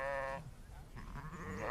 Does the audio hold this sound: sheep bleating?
yes